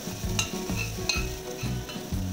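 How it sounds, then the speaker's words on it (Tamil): Chopped ginger and garlic fry in hot oil for chicken momos, a steady close sizzle broken by regular scraping stirs of a spoon in the pan. "எண்ணெய் சேர்த்துட்டு நம்ம கட் பண்ணி வச்சுருக்க இஞ்சி பூண்டு இது 2த்தையும் சேர்த்துக்கலாம்."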